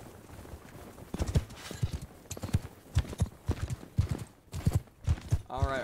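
Horse hooves galloping in a video game battle, a quick irregular run of close, sharp clip-clop beats at moderate volume, with a voice briefly heard at the end.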